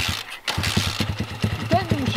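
A small motor scooter engine being ridden over grass, revving in short pulsing bursts with a steady low throb, close by and loud, while people talk over it.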